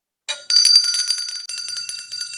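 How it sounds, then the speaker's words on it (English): A very small handbell, a tiny cowbell, rings steadily and brightly up close for about two seconds, its bright metallic tone shimmering with a continuous jingling rattle. "That is the smallest bell I have ever seen."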